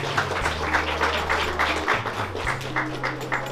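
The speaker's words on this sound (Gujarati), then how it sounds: "Once again તાળીઓ please." Applause from the audience at a wedding kankotri (invitation) exchange: steady clapping that runs through the whole moment, mixed with a low hum and murmur in the room.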